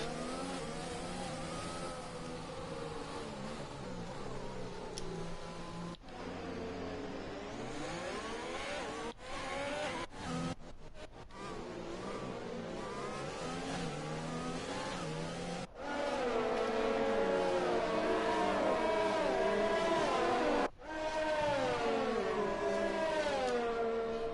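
Racing-game F1 cars on the formation lap at Belgium, a steady droning whine of engines shifting pitch as they rev and ease off, continuous and fairly loud with brief dropouts.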